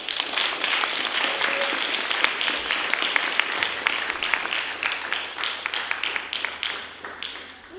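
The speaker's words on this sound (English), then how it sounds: "Everybody clap it up one more time." A rally audience applauds steadily and loudly throughout, dense continuous clapping with scattered sharper claps, tapering slightly toward the end.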